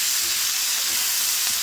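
Spices and coriander stems frying in a hot pan, a loud, dense, continuous sizzle right up close with faint stirring scrapes underneath and no talking.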